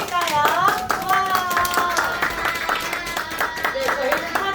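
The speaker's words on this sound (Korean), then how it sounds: "반갑다고 박수 한번 칠까요?" Children at a church youth worship service clap to welcome new students. The quick clapping sits under excited young voices calling out together.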